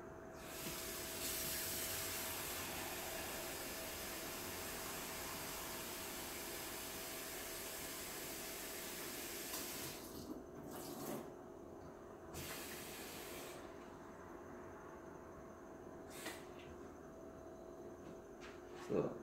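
Water from a kitchen sink tap, fed through a whole-house water filter, runs into a container as a steady rushing hiss for about ten seconds, then breaks into short bursts as the flow is stopped and restarted.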